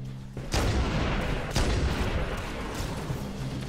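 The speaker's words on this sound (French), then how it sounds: "J'ai échappé à la grenade, j'espère qu'elle est pas sur moi." Grenade explosion and gunfire in the video game Halo: a heavy boom lands, then a second blast, followed by rumbling, crackling combat noise, loud and close, with no talking.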